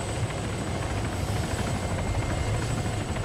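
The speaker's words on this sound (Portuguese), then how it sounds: "Dificultando o pouso do helicóptero, é?" A helicopter in ArmA 3 thumps steadily with rotor beats and a constant engine whine, loud and close, with no voices.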